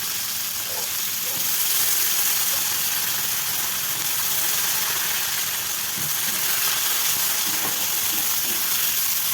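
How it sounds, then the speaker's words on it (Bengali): Garlic and dried onion fry in hot oil in a pan, a loud, dense and continuous sizzling hiss that holds steady throughout with faint scraping underneath and no voices. "জাস্ট রসুনটা 1-2 সেকেন্ড ভাজার পরেই আমি পেঁয়াজ দিয়ে দিচ্ছি, শুকনো পেঁয়াজ"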